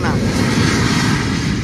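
An airplane engine roars loudly and steadily as the plane speeds up for takeoff at Dubai during Mumbai rain, a dense continuous rumble heard close.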